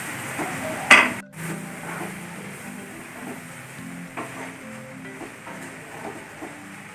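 Ground coconut paste is poured into a pan of frying onions for theeyal, bringing a soft, steady sizzle with a sharp clink of utensil against the pan and light stirring scrapes.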